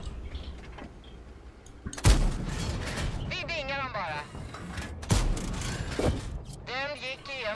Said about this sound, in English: the artillery got him as well